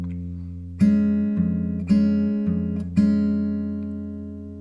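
Fingerstyle acoustic guitar playing a passage, a few plucked bass notes and chords ringing out and decaying slowly, close and clear with no voice.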